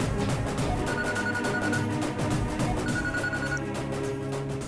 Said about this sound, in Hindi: दीदी, जीजू का फोन है।